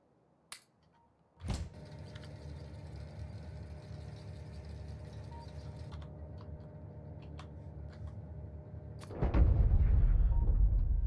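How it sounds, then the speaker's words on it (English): Artillery in Factorio fires with a sharp distant thump, followed by a steady low mechanical hum with faint clicks, then a heavier rumbling barrage swells near the end, moderately quiet overall. "Let's plop an artillery in here."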